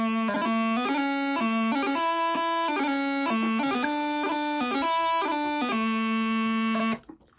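Bagpipe playing the second line of the tune Allan Dodd's Farewell to Scotland, with a steady drone under a close, loud melody of changing notes and quick grace notes, alone and without talk.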